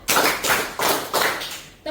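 A classroom group claps together in unison, several broad, even claps spaced roughly every third of a second, loud and close, with a faint voice near the end.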